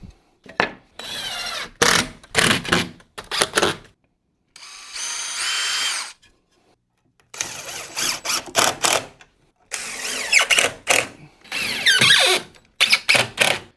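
Power drill pre-drilling and driving screws into wood pieces while building a holiday train layout, in repeated short whirring bursts with a brief pause partway through, close and loud.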